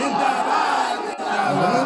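A large crowd at a Pawan Singh stage show in a hill village near Sasaram chants a slogan in loud unison, a dense, continuous roar of many voices close at hand with only a brief dip partway through.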